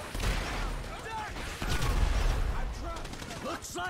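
Gunfire rattles in Grand Theft Auto V, with dense overlapping bursts and heavy booms over about four seconds. Brief voice fragments are mixed in.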